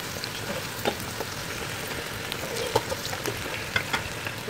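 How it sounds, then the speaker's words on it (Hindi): Chicken frying in a karahi with garlic, ginger and onions, giving a steady close sizzle with scattered crackles and small pops and no talking. "ये चिकन को थोड़ा मैंने फ्राई किया इसमें, लहसुन अदरक और इसमें प्याज में"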